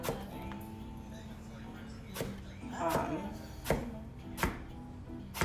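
Kitchen knife cutting vegetables on a board, several sharp separate chops spaced unevenly against quiet room tone, with faint background talk.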